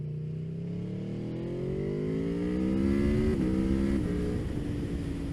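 An Aprilia Tuono motorcycle engine accelerates hard through the gears on a damp road, its rising engine note climbing steadily with a brief dip at a gear change, loud and close-up with wind noise.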